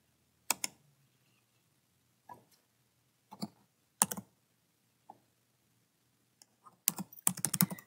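A new password being typed on a computer keyboard: sparse, quiet single key clicks with long pauses between them, then a quick burst of several keystrokes at the end, close and alone.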